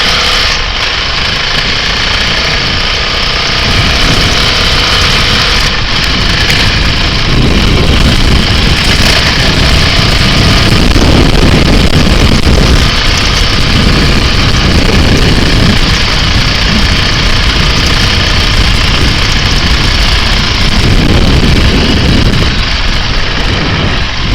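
A Honda CRF450RL dirt bike engine runs steadily and loud throughout, its drone rising and falling as the rider works through a hilly holler trail, with wind noise over it and no talk.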